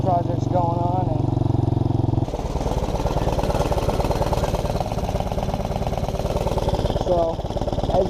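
A TaoTao 110cc quad engine with its carburetor turned up runs steadily and loud up close, a buzzing mid-pitched idle that shifts tone after a couple of seconds, with a voice talking over it.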